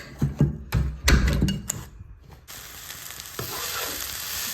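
Vegetable bhaji fries in a pan, opening with a few clattering stir and knock sounds before settling into an even, continuous sizzle close by.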